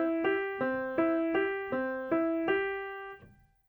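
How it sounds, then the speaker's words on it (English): Piano arpeggio built from chord notes played one at a time in a steady rhythmic pattern, six evenly spaced repeating figures ringing clearly before decaying at the end. "you can also play the notes of a chord in a rhythmic pattern called an arpeggio that sounds like this"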